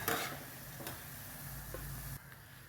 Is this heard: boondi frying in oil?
yes